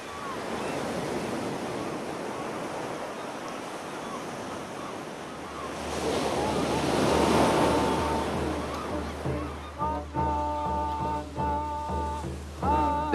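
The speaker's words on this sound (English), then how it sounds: "sea and land meet in a haunting complex of cliffs, polished rock, and crashing waves" Ocean waves crash against rocky coastal cliffs among polished rock and offshore sea stacks in the Pacific Northwest, a loud sustained roar of surf that swells and breaks. Wind noise buffets the microphone, and faint rhythmic tones come in near the end.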